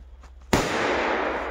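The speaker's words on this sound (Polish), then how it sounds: "Ale faktycznie roboty jak na dwugramówki wypadają lepiej." A Crazy Robots firecracker bursts in one sharp, loud blast about half a second in, then a long broadband echo and crackle fills the rest of the short outdoor moment.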